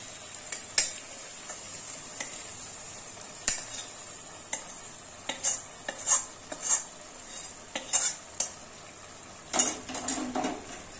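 Cauliflower curry being stirred in a pan after the flame is switched off, with scattered spoon taps and scrapes against the metal over a faint, steady sizzle.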